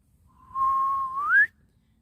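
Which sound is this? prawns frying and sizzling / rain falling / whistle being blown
whistle being blown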